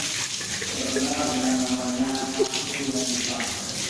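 Tap water runs steadily and close by during ablution as someone rinses their mouth, a continuous splashing flow with faint voices in the background.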